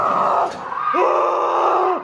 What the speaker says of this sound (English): followed by a woman's scream